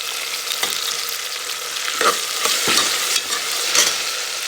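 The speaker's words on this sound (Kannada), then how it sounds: "ನೀರುಳ್ಳಿ ಒಂಚೂರು ಗೋಲ್ಡನ್ ಬ್ರೌನ್ ಮಾಡುವಂತ ಫ್ರೈ ಮಾಡಿದೆ ಒಂಚೂರು ಜಿಂಜರ್ ಗಾರ್ಲಿಕ್ ಪೇಸ್ಟ್ ಮಾಡಲೆ" Sliced onions fry with ginger garlic paste in a pan for veg pulao, a steady close sizzle broken by occasional scraping stirs of the spoon, with no talking.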